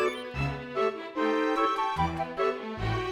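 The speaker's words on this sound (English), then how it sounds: "That was Renoa's dog learning an ability" A short electronic jingle of bright chiming tones rises in a quick melodic run, the Final Fantasy VIII notification for a dog learning a new ability.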